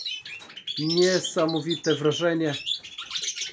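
Male Siberian goldfinches, both natural-coloured and mutation birds such as yellow, sing and twitter in an aviary with bright, rapid warbling phrases, while someone speaks over the birdsong.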